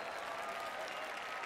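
Crowd applause in the EA Sports PGA Tour golf video game, a steady wash of clapping from a gallery, moderately loud and continuous for a brief moment with no talk over it.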